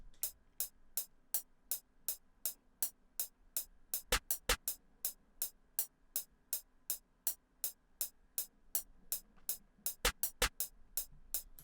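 A programmed snare pattern from a trap beat remake snaps out in sharp, evenly spaced hits with occasional quick doubled rolls, crisp and isolated over near silence.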